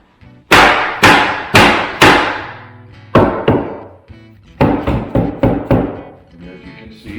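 A dead blow hammer strikes cabinetry in a series of sharp, loud, close thuds, first three quick blows, then a pair after a pause, then a rapid burst of five or six lighter taps.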